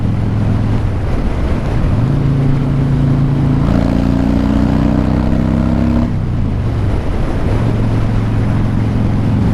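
A 2014 Harley-Davidson Breakout FXSB engine pulls hard in fourth gear at about 70% throttle, a loud, steady rumble rising in pitch with a couple of brief dips and recoveries, under heavy wind rush.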